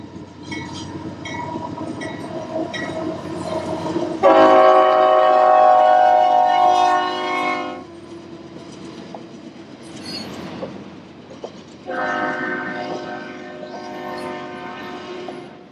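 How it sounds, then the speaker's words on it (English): A train rumbles past at LaSalle with clattering wheels while its horn blasts twice, a long loud blare and then a second shorter one, over steady rail noise. "What'd you think of that train, Alvin?"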